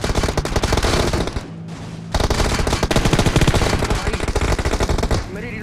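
Rapid, dense automatic gunfire from the PUBG Mobile video game rattles loudly and almost without pause, with one brief lull, while a voice speaks at the end.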